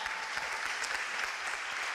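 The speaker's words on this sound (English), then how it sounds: "Big round of applause." Steady audience applause at a scholarship event, a dense continuous wash of many hands clapping at once, even in level throughout with no voices breaking through.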